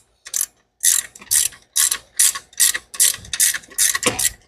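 A wrench ratchets on a bolt of a budget turbo Mustang during charge-pipe work. Close, loud clicking bursts repeat in a steady rhythm, about eight strokes in a row, with no talk.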